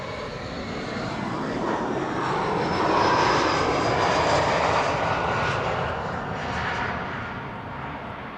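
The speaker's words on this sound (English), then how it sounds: "That's 3 consecutive KLM Embraer 175s." A KLM Embraer 175 jet arriving at Amsterdam Schiphol on a sunny day roars steadily overhead, swelling to a peak mid-pass and easing slightly, a broad continuous engine rumble with no voices.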